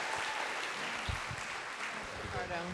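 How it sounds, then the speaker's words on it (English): A crowd applauds the whole team at a small business summit pitch competition, dense continuous clapping with a few sharper claps up front and a voice briefly audible underneath near the end. "can we get one more round of applause for the whole team"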